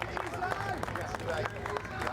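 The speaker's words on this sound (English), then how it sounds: "Warm applause for him." Warm applause breaks out for the race winner on the podium at a Snetterton Cooper race, a steady patter of clapping from a crowd beneath commentary voices.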